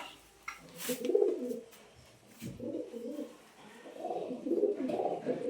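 A pair of pigeons coo close by in low, throaty bursts, pausing briefly between phrases, with no talk over them.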